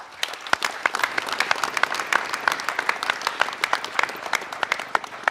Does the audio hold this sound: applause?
yes